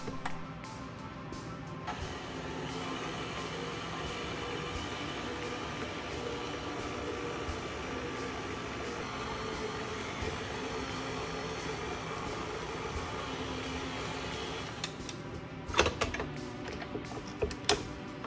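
A stand mixer fitted with a flat beater works French sweet pastry dough, producing a steady, continuous motor whir and churning drone at moderate level, with a few brief clunks near the end and no speech.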